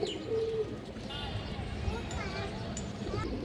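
Racing line pigeons coo softly amid steady background noise, with a few brief chirps and shuffling sounds and a voice talking nearby.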